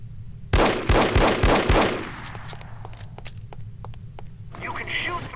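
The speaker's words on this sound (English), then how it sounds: "You can shoot through certain walls and objects." Gunfire from The Operative: No One Lives Forever, a spy shooter: five loud, rapid, evenly spaced shots, then a softer scatter of distant pops and clicks with game ambience and a brief rustling burst at the end.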